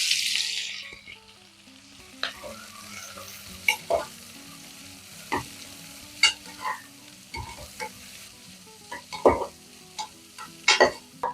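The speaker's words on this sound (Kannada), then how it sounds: "ಸೊ ಈಗ ಇದಕ್ಕೆ ಕಟ್ ಮಾಡಿರೋಂಥ 4 ಈರುಳ್ಳಿನ ಆ್ಯಡ್ ಮಾಡ್ಕೋತಿದ್ದೀನಿ." Four cut onions frying in a spoon each of oil and ghee for mutton curry, a steady sizzle under repeated stirring clicks and scrapes of a spoon against the pan, close and alone.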